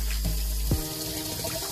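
Tap water runs into a kitchen sink while rice is rinsed for Jamaican curry shrimp and white rice, a steady broadband rush with a brief splash or clunk partway through and no talking.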